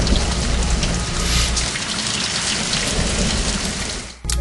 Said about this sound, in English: And the green sounds like rain.